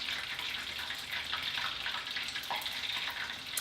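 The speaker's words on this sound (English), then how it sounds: "I added regular tap water." Regular tap water pours steadily into a pan during taco cooking, a continuous bright hissing rush with a faint sizzle, moderately quiet and unbroken.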